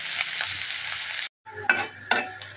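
Fish pieces crackle as they fry in fresh pure mustard oil, with steady sizzling broken by a brief pause, then clinks and scrapes of a utensil against the pan.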